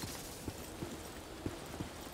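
Soft, irregular hoof clops from a horse moving along in the game Lost Ark, a few distinct thuds over a steady low background hum.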